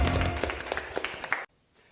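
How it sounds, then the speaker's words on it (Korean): A church congregation applauding during a service, a burst of close, lively clapping that cuts off abruptly into near silence. "하나님께 영광의 박수 올려드리겠습니다."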